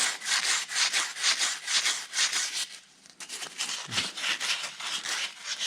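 Rust being scraped off Yamaha Kodiak ATV brake parts, a rapid, rasping back-and-forth scrubbing that stays loud and close, pauses briefly near the middle, then resumes at the same pace.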